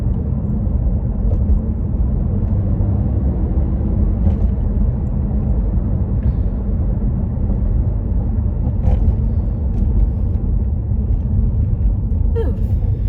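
A car on the drive home, heard from inside as a loud, steady low road rumble and engine drone that runs unbroken throughout with no talking.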